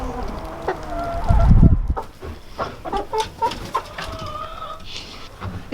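Chickens cluck and chatter inside a homestead chicken coop, several birds overlapping in a busy, close, continuous stream of short calls with a louder flurry partway through.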